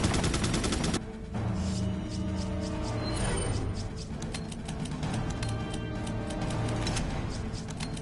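Gunfire in Resident Evil 4 (2005), rapid repeated shots and clicks crackling continuously for several seconds, loud and close, with game background sound underneath.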